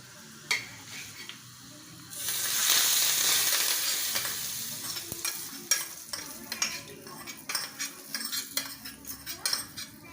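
Hot tempering poured over cooked dal (varan) bursts into a loud, hissing sizzle that swells and fades over a couple of seconds, followed by clinking spoon and pot sounds as it is stirred.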